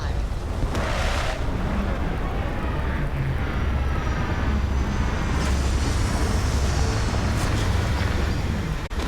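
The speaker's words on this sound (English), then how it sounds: "Retros firing." Retro thrusters fire during a spacecraft landing in Starfield, making a loud, continuous roaring rumble with a whooshing, airy edge, and voices faintly audible beneath it.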